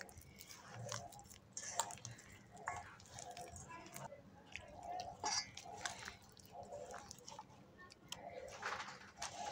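Overripe banana dough with dates is mashed and kneaded by hand, giving soft, repeated squelching and sticky squishes in an irregular rhythm, close and quiet, with a pigeon cooing faintly nearby.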